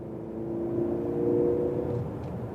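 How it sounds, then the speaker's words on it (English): A 2025 Mercedes-Benz C300 with a 9-speed automatic accelerates onto a highway, its engine giving a steady, moderately loud hum and whir that builds slightly in the middle and then holds, with road rumble underneath and no talking. "Let's see what this engine has to provide and see what the 9-speed automatic is going to give us here."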